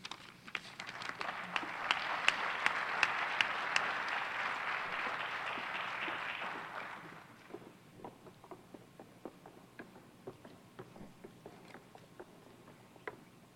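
Audience applause at a school district address, a crowd clapping loudly for several seconds before thinning out to scattered individual claps that trail off.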